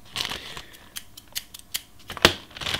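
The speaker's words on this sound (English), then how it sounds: "We have actually discovered some scissors which do not cut." Scissors that do not cut snip repeatedly, giving sharp, irregular metallic clicks and faint crinkles spaced about half a second apart. The sounds are close and fairly quiet, with no talk.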